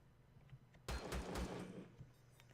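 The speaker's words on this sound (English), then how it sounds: "you get shot in the back by that gun turret" Gun turret firing in a drone base level of a video game, a sudden burst of three or four rapid heavy shots over a faint background, fairly quiet overall.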